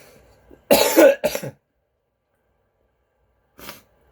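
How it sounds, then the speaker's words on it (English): A burst of two harsh, close coughs, followed after a pause of silence by one shorter, fainter cough. "Pardon the coughing."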